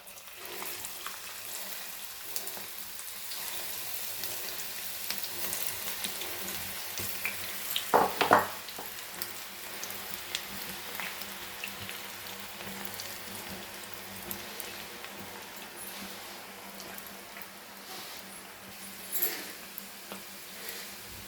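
Spinach pakodas frying in hot oil, a steady soft sizzle and crackle running throughout at moderate level, with a brief louder burst of bubbling near the middle and another small flare toward the end.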